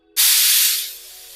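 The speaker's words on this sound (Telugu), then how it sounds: "మీడియం ఫ్లేమ్లో పెట్టుకొని ఒక టూ విజిల్స్ వచ్చేంత వరకు కుక్ చేసుకోండి" A pressure cooker on a stove vents steam while cooking a colocasia curry, a sudden loud hiss that holds steady and then tapers off, with no talk.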